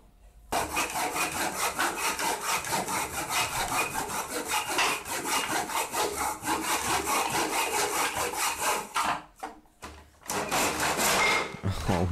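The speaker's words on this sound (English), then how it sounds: "The next step is cutting the wooden strip right before the point where you want the pickup to" Handsaw cutting through a wooden strip for a stick guitar, a fast, loud rhythmic rasp of back-and-forth strokes up close, pausing briefly near the end before resuming.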